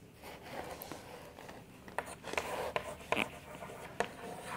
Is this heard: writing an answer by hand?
yes